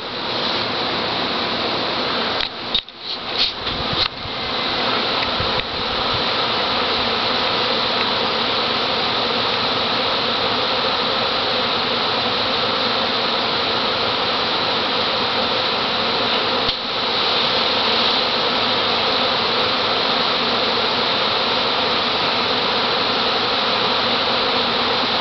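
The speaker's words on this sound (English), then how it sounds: "Man, just millions of bees." A dense swarm of bees buzzing continuously and loudly, a steady wall of humming that fills the whole stretch without a break.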